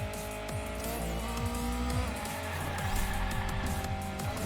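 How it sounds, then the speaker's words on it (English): Toy race car drifting in Hot Wheels Unleashed, a sustained engine drone with sweeping pitch shifts and tire squeals as it slides through turns, loud and continuous with no speech. "Okay, that was a better drift."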